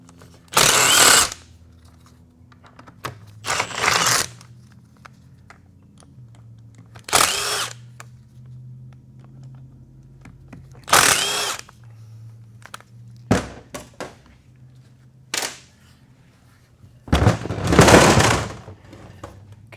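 Power tool spinning out transmission pan bolts on a used vehicle, about eight loud separate bursts of whirring and rattling, each a second or two long, spaced by quiet gaps with a low steady hum underneath.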